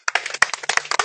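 A handful of sharp, close hand claps from a crowd at a political gathering in Sierra Leone, uneven and quick, bursting out in a short ragged patter.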